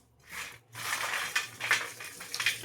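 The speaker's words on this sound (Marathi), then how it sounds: "परत गोल गोल गोल गोल फिरवायचा आहे लसूण" Garlic cloves are rolled round inside a container to loosen their skins, giving close, dry rattling and scraping bursts that come in uneven pulses after a short pause.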